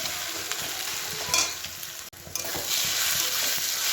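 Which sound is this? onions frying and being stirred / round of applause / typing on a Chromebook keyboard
onions frying and being stirred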